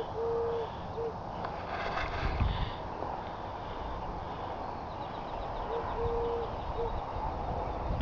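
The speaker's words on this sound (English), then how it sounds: "Sounds like a pigeon to me." Pigeon cooing outdoors in Texas in the morning, soft low hoots repeated a few times at a moderate distance over a faint background hum.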